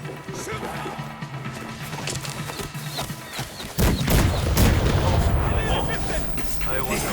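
Gunfire in the Assassin's Creed Shadows video game comes through as booming blasts and crashes. The blasts grow into a dense, loud rumble partway through, with game voices and effects mixed in.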